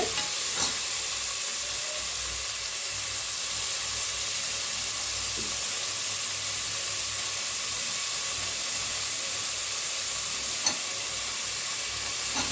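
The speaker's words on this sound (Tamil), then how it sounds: "இப்போ தக்காளி போட்டுக்கலாங்க" Tomatoes sizzling and frying for chicken biryani alongside onions, with a steady hiss and occasional stirring scrapes throughout, no talking.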